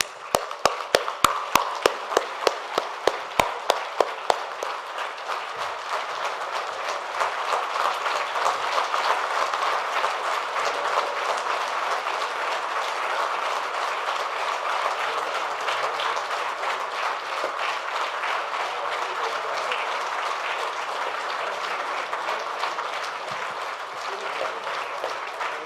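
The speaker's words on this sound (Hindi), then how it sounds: "सभी खड़े होकर एक बार पवन सर के लिए ताली जरूर बजाएंगे सर" Audience at a media group event standing and applauding, starting with a few loud separate claps that swell into sustained, dense applause lasting the whole stretch.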